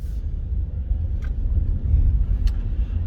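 A Nissan Leaf electric car rolls along almost silently, leaving only a low, steady road rumble broken by a couple of faint clicks.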